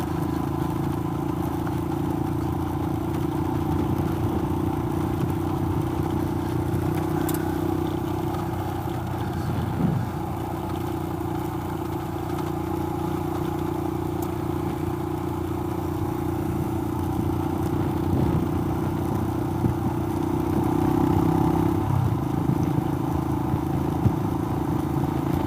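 A car rolls along a rough gravel road near Two Wells in South Australia, giving a steady, loud engine drone and tyre rumble with continuous low clatter throughout and no speech.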